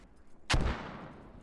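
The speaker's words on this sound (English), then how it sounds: "Ooh, and the mortar's coming in now." A single mortar shell landing in a video game, one heavy booming impact with a deep rumbling tail that fades over about a second, alone against quiet background.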